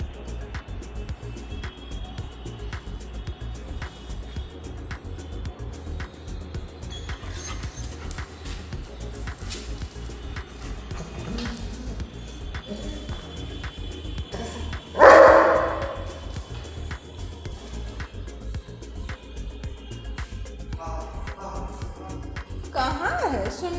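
A German shepherd dog eats roti close by, with wet chewing and smacking sounds going on throughout, a louder bark-like burst around the middle, and people talking in the background.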